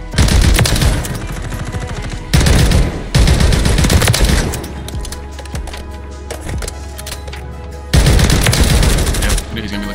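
Automatic fire from a DTIR 30-06 marksman rifle in Call of Duty MW3, loud sprayed bursts of rapid shots separated by short pauses, with a quieter stretch between the bursts.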